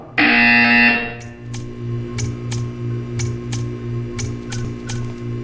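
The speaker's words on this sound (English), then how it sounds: "You will hear a buzzer. When you hear the buzzer, stare at the art." In the Portal 2 video game, a loud harsh buzzer blares for about a second, followed by a steady electronic hum with a regular series of sharp ticking clicks.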